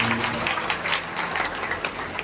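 An audience at an outdoor mushaira and kavi sammelan poetry gathering applauds loudly, with dense, continuous clapping filling the whole moment.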